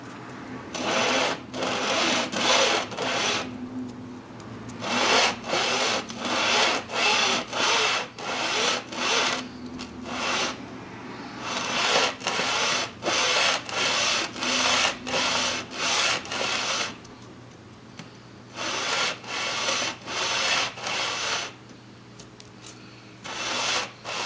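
A file is worked in rhythmic, evenly spaced rasping strokes across a 1911 pistol slide, close and steady, in two runs separated by a brief pause.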